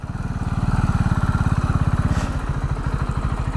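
A KTM Duke 690 R motorcycle being ridden: close, loud engine pulses in a fast, even rhythm that ease slightly toward the end.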